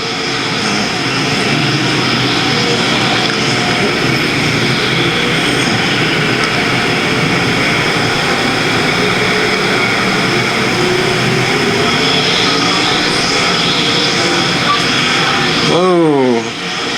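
Dirt track race cars at a speedway roaring side by side, with a continuous loud engine drone throughout and a rising whine near the end, under commentary.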